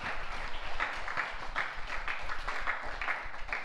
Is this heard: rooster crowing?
no